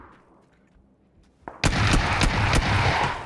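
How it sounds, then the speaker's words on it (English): Shotgun blasts from a bot in PUBG, a few sharp, loud booming shots in quick succession after a quiet lead-in, with no talking. "That bot shot 3 shotgun shots at me"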